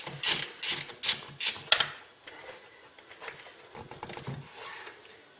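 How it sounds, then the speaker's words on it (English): A ratchet works a wiper motor bolt out of a Ford Cortina MK3, giving a few sharp, close clicking pulls followed by quieter, quicker ratcheting. "Last wiper motor bolt coming out."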